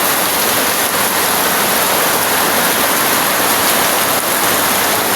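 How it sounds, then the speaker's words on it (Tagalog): Heavy typhoon rain pounding a tin roof in a rural Bicol home, a dense, steady roar of drumming drops that stays loud and unbroken throughout with no voices. "Lakas na ng ulan."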